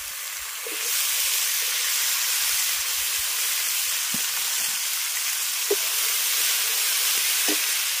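Potato and water spinach greens frying in spiced oil, a loud steady hiss of sizzling that jumps up after the first second, with a few faint utensil knocks, close and continuous, no talk.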